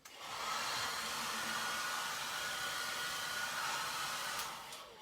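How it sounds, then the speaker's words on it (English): A hairdryer blows steadily to dry antiquing powders on a painted letter box, a continuous loud whooshing hum that starts abruptly and holds for several seconds before easing slightly at the end. "for the video I'm going to speed it up just a little bit with a hairdryer"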